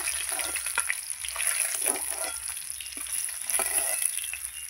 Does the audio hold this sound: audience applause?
no